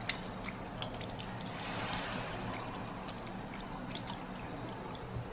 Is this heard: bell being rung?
no